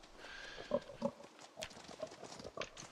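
A pig grunts in the survival video game Project Zomboid, a few short, faint snorts spaced irregularly over quiet background noise.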